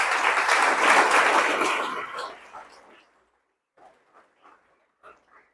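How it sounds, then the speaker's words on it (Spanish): Church congregation applauding, a dense burst of clapping that fades out over a couple of seconds, followed by a few faint, scattered sounds in the quiet. "Den un aplauso al Señor."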